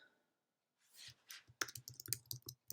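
Typing on a computer keyboard while entering card text in Cricut Design Space: a few soft strokes, then a quick run of sharp, close keystroke clicks at an uneven rhythm, with nothing else heard.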